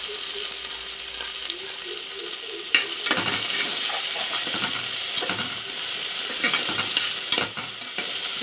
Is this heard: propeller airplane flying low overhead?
no